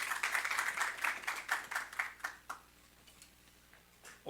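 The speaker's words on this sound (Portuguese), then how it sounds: "peço uma salva de palmas aqui para o Alexandre" An audience at a data science lecture on health at INPE claps for a few seconds. The applause is moderate and steady, then tapers off to near quiet with a faint tick at the end.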